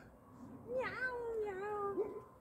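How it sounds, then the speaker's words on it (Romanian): A cat holding a mouse in its mouth gives a clear, drawn-out meow followed by a second rising, wavering meow, close and distinct over quiet background. "Miaună!"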